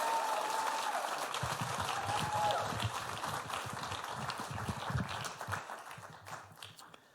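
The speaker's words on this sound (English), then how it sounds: "Please put your hands together and a round of raucous applause for our first teller, Carol." An audience claps and cheers for a storyteller taking the stage at a live storytelling event. The dense applause fills the room from the start and fades out toward the end.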